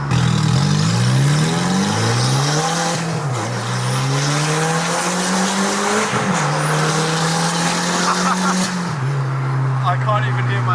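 Close, loud engine drone from a car with a blowing exhaust driving along, its pitch rising and dipping with several gear changes and occasional throttle lifts.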